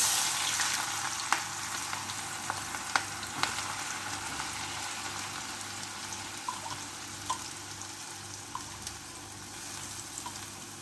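Chopped onion and garlic sizzle and fry in hot mustard oil with cumin, a steady soft crackle with scattered pops, fairly quiet and without talk.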